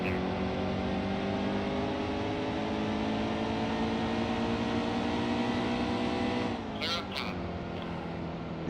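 A NASCAR Xfinity race car engine at New Hampshire in NASCAR Heat 2 drones at high, steady revs, loud and close, then briefly dips as the driver shifts or lifts before pulling again, with talk over it.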